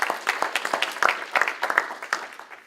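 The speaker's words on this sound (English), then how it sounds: "You're supposed to all applaud." A small meeting audience applauds to thank a colleague, a brief burst of distinct, individually audible claps from a modest group that thins out and fades within a few seconds.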